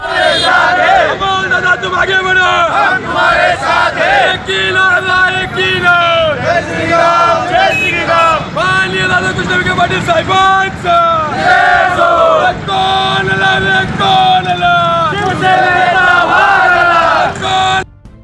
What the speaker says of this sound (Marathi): संगमनेरमध्ये महायुतीचा जल्लोष